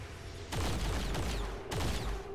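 Gunfire in XCOM 2: three sharp bursts of shots, each with a heavy low boom and ringing tail, coming in quick succession at about half-second gaps.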